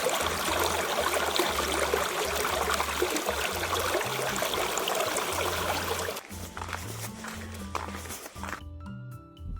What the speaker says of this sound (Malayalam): ഇതാ രസകരമായ മറ്റൊരു വെള്ളച്ചാട്ടത്തിന്റെ കാഴ്ചകൾ